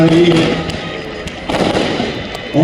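Fireworks go off at a police volleyball tournament's closing ceremony, sounding as a loud outdoor rumble of bursts and crackles with a voice speaking over them through a public address system.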